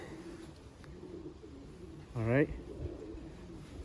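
A racing pigeon gives a single short, close coo partway through, rising out of a soft background hum, with someone talking before it.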